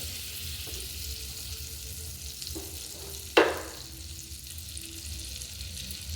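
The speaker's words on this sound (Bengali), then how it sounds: "কড়া ভাজলে পরে পনিরগুলো শক্ত হয়ে যাবে, ওই জন্য হালকা ভেজে নেব" Paneer fries lightly in butter and white oil, a steady soft sizzle running throughout, with a sharp clatter partway through.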